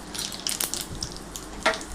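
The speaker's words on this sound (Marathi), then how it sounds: "तर आता मी त्यावरती जिरे आणि मोहरीची फोडणी टाकणार आहे" Cumin and mustard seeds sizzle and crackle in hot oil for a tempering, giving a steady crisp hiss with scattered pops and one sharper burst near the end. The sound is close and moderately quiet.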